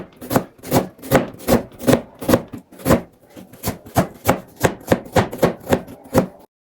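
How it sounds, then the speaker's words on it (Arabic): Two large onions are chopped into small cubes with a knife on a board: a loud, close, steady run of about twenty rhythmic chops, each a crisp thud with a slicing rasp. "معايا بصلتين كبار هقطعهم مكعبات صغيرة"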